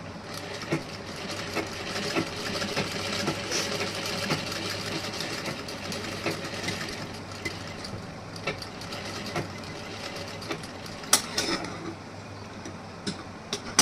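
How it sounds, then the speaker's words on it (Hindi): A sewing machine stitches blouse front-panel fabric with a steady, close mechanical whir and fine ticking that runs the whole time, with no talking. "यहाँ पे भी मैं स्टिचिंग कर दे रही हूँ"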